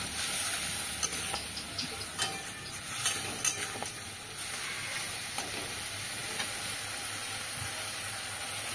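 Spice paste for a katla fish head chorchori, loosened with a little water, sizzles steadily in a pan while a spatula scrapes and taps through it at irregular intervals.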